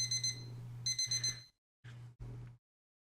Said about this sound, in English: I begrudgingly open my eyes and destroy my alarm clock.